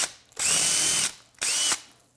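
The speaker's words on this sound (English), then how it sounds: "as you drill through the plaster" Power drill boring through old plaster over wood lath during a wall patch repair, two loud close bursts of whirring, the first about three-quarters of a second and the second shorter, with a brief pause between.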